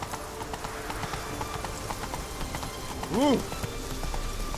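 Roach, a horse in The Witcher 3, gallops with a steady clip-clop of hooves running through the whole stretch. A voice and a brief whinny rise over the hoofbeats partway through.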